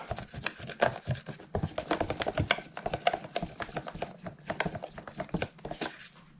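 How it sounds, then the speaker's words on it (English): Epoxy is mixed for repairs on a 1982 Montgomery 17 sailboat, heard as close, rhythmic scraping and stirring strokes in irregular bursts, with no talking. "Mixing up some epoxy here now."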